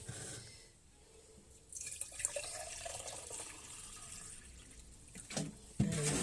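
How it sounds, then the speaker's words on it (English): Water is poured into a flower urn fitted with chicken wire instead of floral foam, a faint splashing, trickling pour with a few clinks and knocks against the vessel. "Fill it with water."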